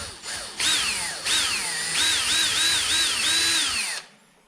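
A power drill whines and revs up and down repeatedly as it bores a shallow hole into wood for a Shaker side table, loud and close, then spins down and stops.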